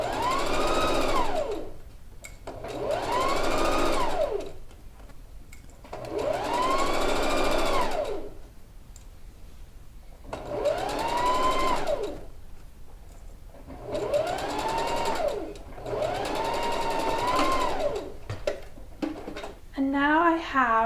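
A sewing machine stitches bias binding onto a wrap dress in six bursts of rapid whirring, each a couple of seconds long with short pauses between, close and fairly loud, with a few soft handling clicks at the end.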